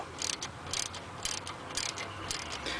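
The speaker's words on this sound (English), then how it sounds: "start to take it out with the ratchet" Ratchet working loose the bolts on the rear brakes of a BMW 5 Series E60, giving repeated metallic clicking bursts close by against a steady background hiss, with no talking.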